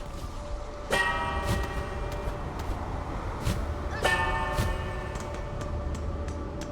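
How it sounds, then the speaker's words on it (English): Bells from the video game Hollow Knight: Silksong ring in two distinct strikes a few seconds apart, each with a bright ringing tone that decays slowly over a steady game background. "you gotta ring the 5 bells and get the needle in before you can continue"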